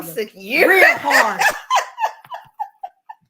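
A big dog barks in a string of loud, close yelps and woofs through the first half, then sharp, shorter barks taper off, with a person talking over the start.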